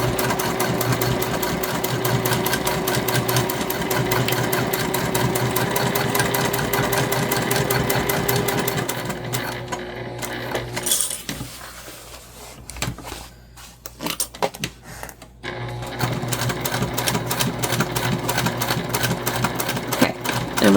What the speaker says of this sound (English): as we're stitching over where those panels come together